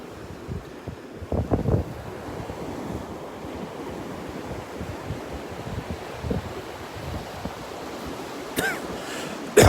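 Ocean surf washes onto the beach at Delnor-Wiggins in a continuous broad rush under steady wind noise, with a few louder wave surges and a brief thump near the end.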